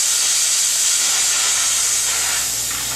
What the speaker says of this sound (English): This will give you a dry steam, 100 psi of concentrated